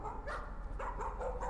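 A dog barks in the horror video game Layers of Fear: a few short, sharp barks in separate bursts, fairly close and clear over a low steady background hum, with no talking.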